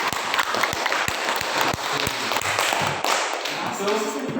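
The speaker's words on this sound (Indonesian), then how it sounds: "Tepuk tangan untuk kelompok." Group applause in an Indonesian classroom discussion: a cluster of sharp, rhythmic hand claps that keeps a steady beat, with voices murmuring among the clapping.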